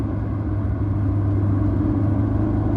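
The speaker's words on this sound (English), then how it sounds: "Probably because my car is so loud. Because I have an exhaust leak." Loud, steady low rumble from a car engine with an exhaust leak, a constant droning idle or cruise heard close up with no breaks.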